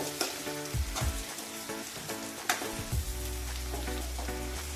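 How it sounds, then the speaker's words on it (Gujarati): Garlic and onion sizzle steadily in a hot pan, roughly 250 grams of garlic, with a spoon scraping and stirring through them in repeated strokes; close and fairly loud, with a low hum building toward the end and no speech. "લસણને કમ્પ્લીટ જ્યાં સુધી ચડી ના જાય ત્યાં સુધી આપણે હલાવતા રહીશું"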